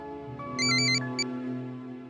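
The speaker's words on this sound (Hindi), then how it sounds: "ये लो, फोन आ गया।" A phone ringtone plays as a short, bright electronic melody of a few chiming notes over a sustained musical background, loud and close, with no talking.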